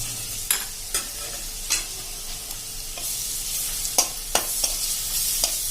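Ginger garlic paste fries together with golden brown onions in a pan, making a soft, steady sizzle close by. Quick stirring scrapes cut through it at irregular intervals, and no one speaks.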